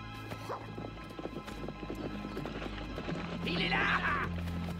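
Horses gallop with rapid clip-clop hoofbeats through a chase scene, dense and fairly close, joined by a brief whinny, with people calling out over the hooves.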